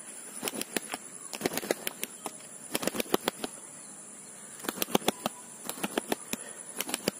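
Young pigeon chicks flying, wings flapping in bursts of quick, sharp claps, some in dense clusters and some as single beats, fairly close and loud, with no voices.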